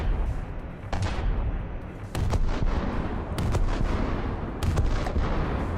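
A 230 mm autoloading tank gun fires in a video game, four heavy booming shots spaced about a second or more apart over a continuous rumbling background.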